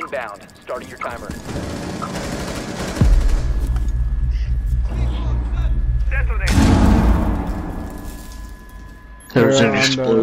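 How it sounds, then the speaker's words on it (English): A heavy explosion in Rainbow Six Siege booms suddenly, followed by a long rumbling roar and a second blast, with brief talk and game effects around it. "There's an explosion right outside the this here."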